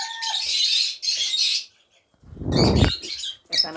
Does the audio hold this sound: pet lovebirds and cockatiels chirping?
yes